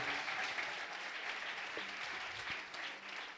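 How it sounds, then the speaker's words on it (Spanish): A church congregation applauds a guest preacher. The clapping is steady and fairly faint, heard from a distance in a reverberant hall, with brief low voice fragments showing through. "No, pero un aplauso más fuerte."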